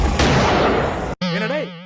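A cheap gunshot sound effect in a low-budget film: a dense, loud burst of crackling noise fills about a second, then cuts out sharply before a voice begins speaking.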